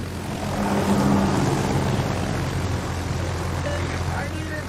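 An aircraft squadron launches in a video game: a broad propeller-like engine roar swells quickly, then holds as a steady drone, with a few small interface tones near the end.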